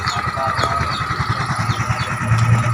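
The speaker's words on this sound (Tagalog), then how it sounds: "Tahimik na yung makina niya." A small Yamaha Mio scooter engine, repaired for a magneto knocking fault, idling steadily with a rapid low putter, close by, with faint voices in the background.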